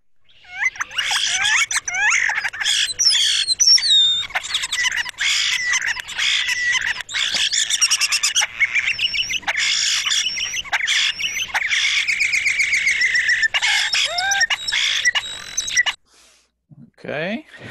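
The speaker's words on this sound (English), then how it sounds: "European starling." A dense flock of European starlings calls without pause, a loud jumble of whistles, clicks, rattles and squeaky chatter layered near and far, cutting off abruptly near the end.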